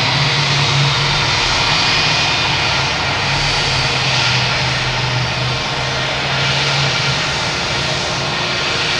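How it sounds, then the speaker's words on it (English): Spirit Airlines jet engines roaring at Boston Logan Airport, a loud, steady, sustained rumble and whine with a low droning tone, continuous throughout and heard at some distance, no voices. "of course we have Spirit Airlines making the racket down here"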